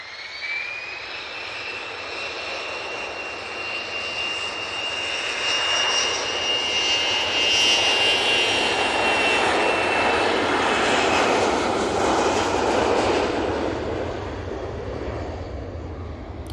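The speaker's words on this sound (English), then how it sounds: "It's a Bombardier Global 6000" A Bombardier Global 6000 business jet passes, its engine roar swelling to a peak midway with a rising whine, then slowly fading, heard alone.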